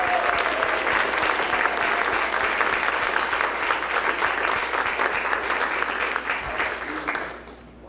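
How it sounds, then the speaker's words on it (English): Audience applause at a third-grade spring instrumental school concert, steady and dense clapping from a crowd sustained for several seconds before tapering off at the end. "So if we give them one more round of applause,"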